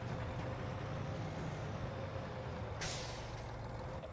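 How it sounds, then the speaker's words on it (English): In Farming Simulator 25, a reversing truck runs with a low engine rumble, then its air brakes release one sudden, loud hiss partway through before the engine drone carries on alone. "So if we put it in reverse and slam on the brakes."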